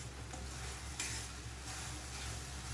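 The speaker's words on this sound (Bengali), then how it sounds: "মশলাটার কাঁচা গন্ধ না যাওয়া পর্যন্ত মশলাটা আমি কষাবো।" Masala for chicken maharani stirred and fried in a pan, a continuous close sizzle with repeated scraping stirs and no talk.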